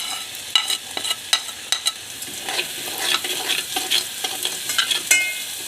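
Spices roast and sizzle in a pan for kadhi, a steady frying hiss broken by repeated scraping stirs and clinks of a spoon, close by with no voices.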